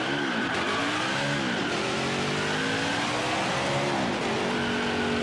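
A NASCAR race car engine in the video game NASCAR Heat 5 revs loudly and continuously, its pitch dipping and climbing as it accelerates, with no voices.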